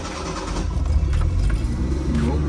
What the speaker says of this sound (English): So opening the choke,